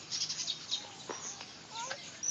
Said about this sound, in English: Look, the bird's coming over to say hi to you.